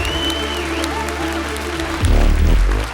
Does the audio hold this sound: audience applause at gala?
yes